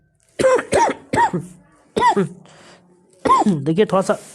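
Short, harsh coughs break up a speaker's talk in Hindi during a quiz-style lesson. The speaker has a cough brought on by changing weather and water.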